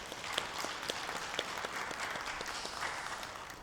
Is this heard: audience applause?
yes